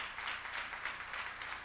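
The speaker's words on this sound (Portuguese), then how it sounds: "vamos aplaudir essa galera aí" An audience applauds a long-haired rock band at a car-culture show, a steady, fairly faint patter of many hands clapping throughout with no pauses.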